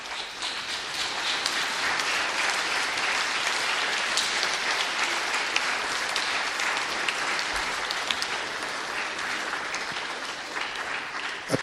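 Sustained applause from a crowd at an Armistice commemoration, a dense, even clatter of many hands clapping for about twelve seconds without a break.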